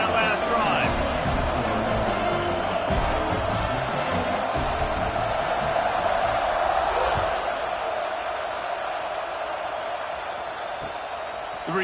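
A Penn State football stadium crowd roars in a broad, sustained wash of cheering, with a commentator talking over it throughout.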